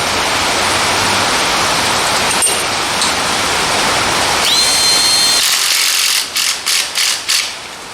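A power tool runs on a nut while a throttle body spacer is fitted to a 2001 GMC C3500: a steady hiss gives way to a rising whine, then several short, loud bursts close to the mic.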